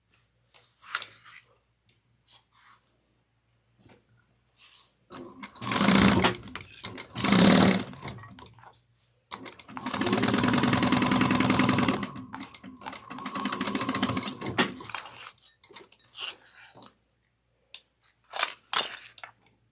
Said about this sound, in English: I'm going to sew this down using a 1/8 of an inch